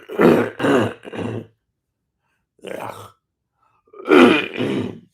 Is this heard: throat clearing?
yes